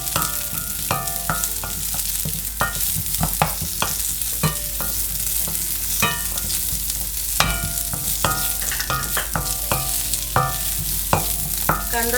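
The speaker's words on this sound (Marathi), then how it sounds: "कांदा चांगला भाजून द्यायचा आहे।" Onion frying in hot oil while a Malvani crab masala is being made, a steady dense sizzle with irregular crackles and the scrape of stirring throughout, close and fairly loud, with no talking.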